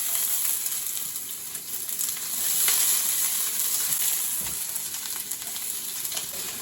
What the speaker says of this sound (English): All right, onions are cooking.